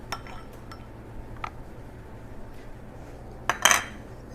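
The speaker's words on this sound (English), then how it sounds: "use my knife. Just scrape everything into the bowl" A knife scrapes chopped garlic into a bowl: a few brief clinks and scrapes of metal on the dish, sparse and close, with a louder clatter near the end and quiet pauses between.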